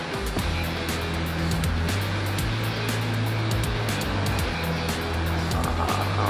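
Water spraying the tires of a 2020 Chevrolet Camaro SS at a car wash: a steady, loud, close hiss of water throughout, with a low droning hum underneath.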